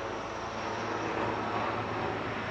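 A helicopter passing overhead produces a continuous broadband roar with a low rhythmic rotor throb, loud and steady throughout with no voices.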